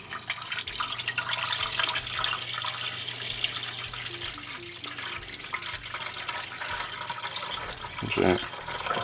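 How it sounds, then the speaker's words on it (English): Tap water runs steadily into a larger pot, filling it a third to half full to make a simple double boiler for candle wax; a continuous close hiss of pouring with a short clunk near the end. "put some water in it"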